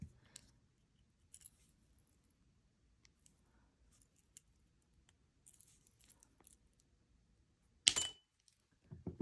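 A pair of cutters snips jewelry wire while making beaded cluster earrings, a single sharp metallic clip standing out near the end after faint scattered handling ticks in a quiet room.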